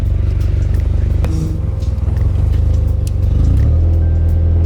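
A Nissan 240SX on its first drive on the road, its engine note loud and steady with low harmonics that rise and shift as it revs, plus light rattles and clatter.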